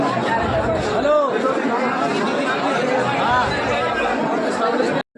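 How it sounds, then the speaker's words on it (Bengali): A dense festival crowd murmurs and chatters all around during the Jagaddhatri Puja night in Chandannagar, a steady loud hubbub of many overlapping voices with a few nearer voices standing out, ending in a sudden cut. "পুজো স্পেশাল ভিড়"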